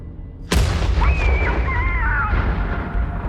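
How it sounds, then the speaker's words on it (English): A single loud, deep boom bursts in suddenly and rolls into a long rumbling decay, with a faint high whine trailing through the reverberant tail. "hear a loud banging sound unlike any other they've heard before. This one sounds like some kind of explosion."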